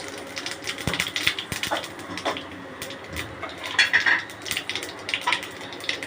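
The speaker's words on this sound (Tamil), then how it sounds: "ஆயில் ஹீட் ஆனோடனே கொஞ்சோண்டு கடுகு சேர்த்துக்கோங்க. கடுகு நல்லா புரிஞ்ச உடனே கொஞ்சோண்டு சீரகம்" Mustard seeds spluttering in hot oil, a scattered run of sharp pops and crackles, close and moderately loud, irregular and continuous over a low sizzle.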